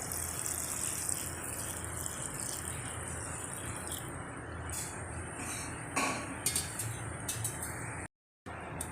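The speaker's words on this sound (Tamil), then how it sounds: "அடுத்து காய் மூழ்கிற அளவுக்கு வந்து நம்ம தண்ணி ஊற்றி வேக வச்சுக்கலாம்" Water is poured into a pot of cluster beans for boiling: a steady, close gushing and splashing rush with faint clinks near the end and no voices.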